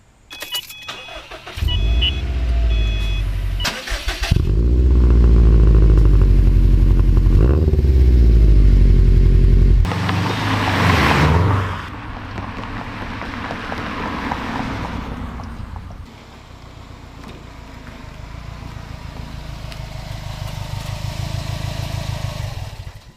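A Subaru WRX STI fitted with a Perrin pitch stop mount starts and revs loudly up close, then settles into steady engine and driving noise that drops in level and builds again, with no talk.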